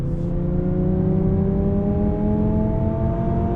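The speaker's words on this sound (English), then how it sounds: "this does have sound that is pumped through the speaker system. So if it sounds like a little bit of a race car, that is from the speakers" A 2020 Lexus UX250h F Sport hybrid accelerates under throttle, heard from inside the cabin. Its simulated engine note plays through the speakers as a smooth, steadily rising synthetic drone over low road rumble.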